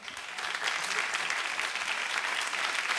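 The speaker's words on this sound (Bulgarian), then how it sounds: "Аплодисменти." Studio audience applause at a Bulgarian television talk show, a dense, steady burst of many hands clapping together, loud and close for about three seconds with no voices over it.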